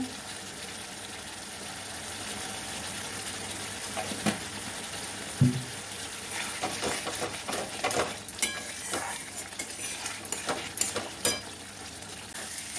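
Ghee sizzles in a pan while jackfruit kofta curry is cooked, a faint, steady fry that is broken by a few stirring knocks and scrapes near the end.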